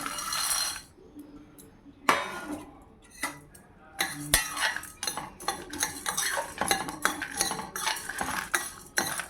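A metal spoon scrapes and clinks against a pan as whole spices such as cumin are stirred and dry-roasted for drumstick-stem rasam, with irregular bursts of clatter and brief pauses, close and fairly loud, no voices.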